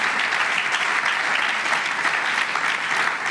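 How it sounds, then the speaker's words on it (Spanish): A church youth congregation applauds loudly and continuously, a dense wash of many hands clapping together without pause. "Dele más fuerte ese aplauso al Señor."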